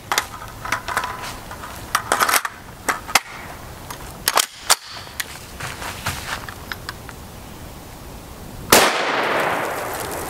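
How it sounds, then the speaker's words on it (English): Several sharp gunshots from an FN PS90 firing SS-198 5.7x28mm rounds at an outdoor range, about seven yards from a chronograph, sounding as scattered loud cracks with metallic clinks between, then a sudden burst of broadband noise near the end. "We'll also take 3 shots of SS-198 from the PS90"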